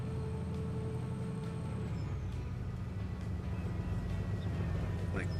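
A diesel train engine idles with a low steady rumble in the Transport Fever 2 game, droning on continuously at moderate loudness while someone talks intermittently over it.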